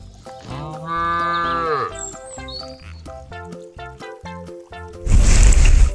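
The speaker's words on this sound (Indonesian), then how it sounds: "Ini adalah sapi." A cow moos in a long, drawn-out low call, followed by a burst of louder noise at the end; a light musical backdrop sits underneath.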